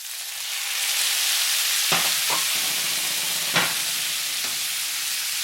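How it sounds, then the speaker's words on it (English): Beef with cumin sizzles loudly in a hot pan as it is stir-fried, a steady hiss broken by several scraping stirring strokes. "We're going to add back in the beef."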